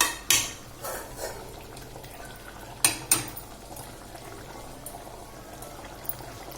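Eggs drop into a simmering onion curry gravy with a few sharp clinks and splashes against the pot, over a low bubbling background, then the pot settles to a quiet simmer.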